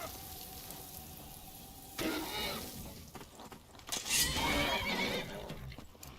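A horse in Skyrim neighs loudly and close, a shrill whinny rising over the game's ambient bed, followed by a second whinny and scuffling hoofbeats.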